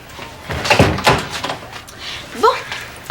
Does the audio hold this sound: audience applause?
no